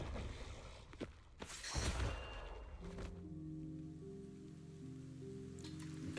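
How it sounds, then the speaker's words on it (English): Rain in the Zenless Zone Zero video game comes in as a soft patter, opening with a few sharp whooshing impacts and then settling under a sustained synth tone. "Gotta bring out the rain."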